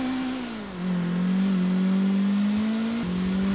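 Blista Compact car engine in GTA 4 hums steadily as it drives, a sustained mid-pitched drone that dips briefly, then holds with small shifts in pitch, loud and close with no talk.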